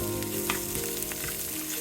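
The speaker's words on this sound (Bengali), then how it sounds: "মশলা ভাজা হয়ে গেছে এখন সামান্য একটু পানি দিয়ে দিব" Spices fry in hot oil in a pan for an egg bhuna, a dense, continuous close sizzle with a faint stir or two and no talking.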